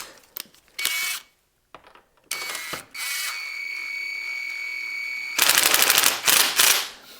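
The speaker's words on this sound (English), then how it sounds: "I will tighten this up, and I will torque it to 80" Wrench tightening the swing arm bolt on a Yamaha Tenere 700 motorcycle, a series of sharp, close ratcheting clicks in short bursts separated by brief pauses.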